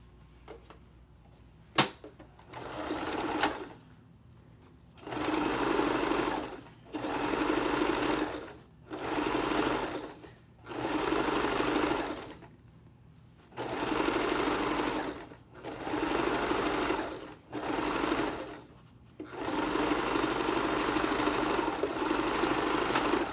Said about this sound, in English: this time I'll make the seam quite a bit wider so that it'll contain the raw edge